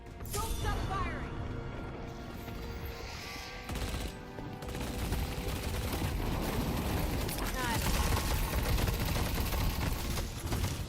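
Gunfire and combat effects in Deadlock, a dense rumbling wash of shots and blasts that swells louder toward the end, with a voice speaking over parts of it.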